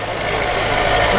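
A tractor engine idles steadily at a farm household, a loud, close, continuous low rumble with no break and no talk over it.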